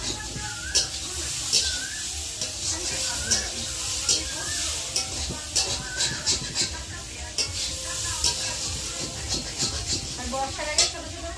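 Vegetable curry fries on a two-mouthed clay stove during the rainy season, a soft continuous sizzle with regular stirring scrapes and clinks, while a person talks quietly nearby and birds chirp faintly.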